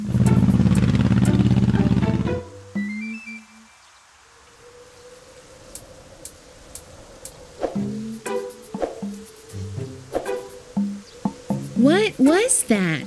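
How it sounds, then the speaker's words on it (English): A loud motorcycle engine roars briefly at the start, then stops, followed by a voice speaking. "Motorcycle."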